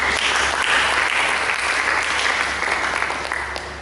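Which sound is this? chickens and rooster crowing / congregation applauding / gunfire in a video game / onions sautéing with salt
congregation applauding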